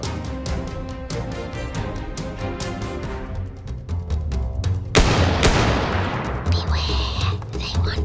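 A burst of gunfire sound effect rings out sharply, followed by a loud boom and echoing decay over a dramatic musical backdrop.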